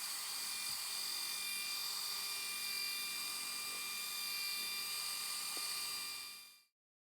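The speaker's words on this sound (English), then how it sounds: "Now we're going to go ahead and polish this thing out." A machine polisher works aluminum with Nuvite F7 polish, giving a loud, steady high-pitched motor whine that runs unbroken for about six seconds and then cuts off abruptly.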